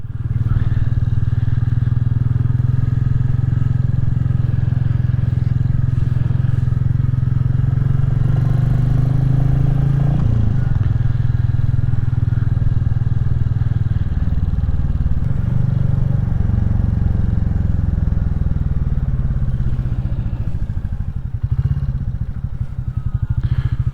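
A Royal Enfield Classic 350 motorcycle rides the Abergwesyn Loop in Wales, its engine a steady, loud, close drone for the whole stretch, with a few thumps and shifts in pitch as the ride goes on.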